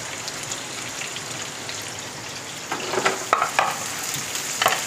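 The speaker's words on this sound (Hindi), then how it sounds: "प्याज डाल देंगे, प्याज को ज़्यादा हमको भूनना नहीं है, बस इसको सॉफ्ट होने तक हमको भूनना है।" Chopped onions frying in oil in a pan, a continuous crackling sizzle that grows busier and louder partway through, with sharp spatters and no talking.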